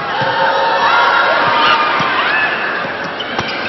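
A volleyball crowd at a match between SSC-R and Philippine Air Force cheers loudly and continuously, a dense roar of voices with scattered shouts and occasional thumps from the court.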